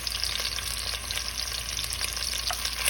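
Coarsely cut garlic fries in a pan with a steady, close hiss and crackle, moderately loud throughout with light stirring and no talk.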